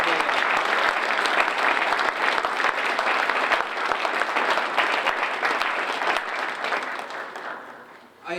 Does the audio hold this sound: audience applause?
yes